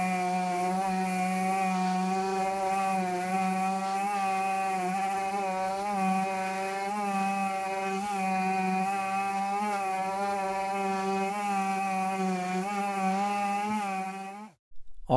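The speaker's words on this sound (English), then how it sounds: "let's try out the quarter sheet palm sander now." A quarter sheet palm sander runs steadily on a wood board, a loud continuous motor whine with a buzzing edge that holds for about fourteen seconds before cutting off abruptly.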